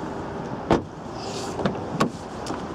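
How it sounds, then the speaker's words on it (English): Electric front window on a Vauxhall Insignia car, with a few short mechanical clunks and whirs near at hand over a steady low cabin background, standing alone without talk. "you've also got electric front windows, electric door mirrors."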